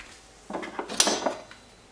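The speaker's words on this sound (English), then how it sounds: "what you would do is you flip the grinder upside down" A DF64 coffee grinder is flipped upside down on a hard surface, giving a short cluster of knocks and clattering taps over about a second, fairly close and with no talking.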